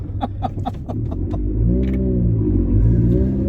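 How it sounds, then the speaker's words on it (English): An EK Honda Civic engine idles roughly with a loud, rumbling exhaust from a leak, blipping and rising in tone after a few sharp knocks. "Exhaust. She's a little loud. It's got a leak somewhere."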